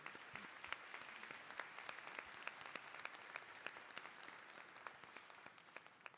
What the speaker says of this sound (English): please give the last round of applause for all the panelists